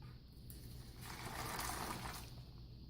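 Water pours into a Slovenian Type A 24-hour combat ration meal pouch, a steady close trickle that swells into a fuller gush midway, then eases off over a faint background hum.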